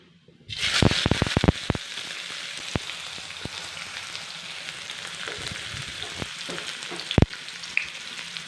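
Chopped onions hit hot oil with cumin powder in a pan for lady's finger masala and sizzle loudly. A few sharp crackles and pops ring out early, then a steady close frying hiss carries on to the end.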